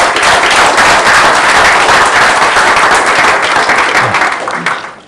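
Conference audience applauding after a live software demo, a dense, steady wash of clapping that holds loud for about four seconds, then thins and fades out at the end.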